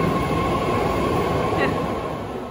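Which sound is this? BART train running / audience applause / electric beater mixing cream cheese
BART train running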